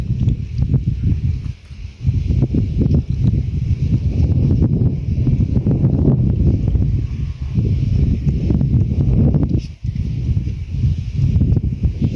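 Gusty wind over calm water buffets loudly and continuously, rumbling and roaring with brief lulls, with no voices.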